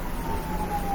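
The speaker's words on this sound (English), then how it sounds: "If you hear sirens in the background" A distant siren wails faintly in one steady held tone, partly buried under a dull rumble of background noise.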